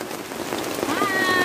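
Steady rain patters densely on a surface, close and constant for a brief moment.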